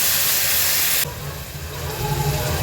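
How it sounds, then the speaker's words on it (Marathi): Washed sprouted moth beans go into hot oil with a fried onion-coconut masala for a Maharashtrian Agri-style matki usal, setting off a loud steady sizzle and hiss that drops sharply after a second, then keeps crackling more softly. "आता ही मटकी मी स्वच्छ धुवून घेतली ती ऍड करते"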